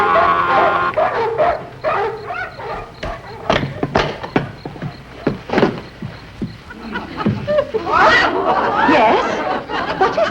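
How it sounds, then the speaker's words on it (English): Dogs barking repeatedly in a sitcom scene, sharp yaps and yips in irregular bursts mixed with whimpers and thumps, loud and close, with people talking around them. "They've got barking dogs."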